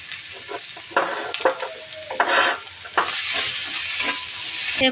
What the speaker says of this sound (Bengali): এবার আমরা তেলের উপরে পেঁয়াজ আদা রসুন বাটা দিয়ে দেবো। একটু ভালো করে একটু ভেজে নেব।